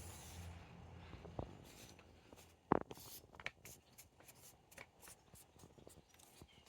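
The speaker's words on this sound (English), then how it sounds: "simply a matter of folding it in half. Just fold it corner to corner" Paper frame cut from a sheet being folded in half corner to corner, with soft crinkling and a sharp crease snap near the middle, then a run of light papery taps and rustles, close and quiet.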